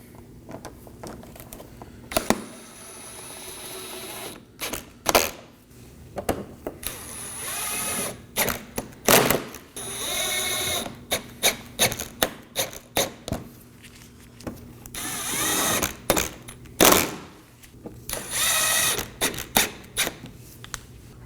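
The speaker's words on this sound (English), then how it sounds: "We're going to move onto the vehicle and reinstall our 6 10mm fasteners." Ratchet snugging down six 10mm bumper fasteners on a 2020s Toyota Corolla, rapid clicking bursts repeated in short runs with pauses between, close and fairly loud, no talk.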